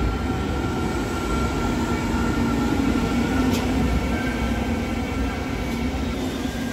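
An SGMM sprinter train running on rails toward Dordrecht, heard as a steady, loud, continuous rumble with a faint high whine throughout and no voices.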